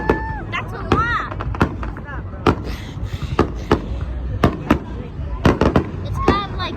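Fourth of July fireworks and firecrackers burst in a rapid, irregular series of sharp loud bangs, some with whistling crackle, with voices chattering between the blasts.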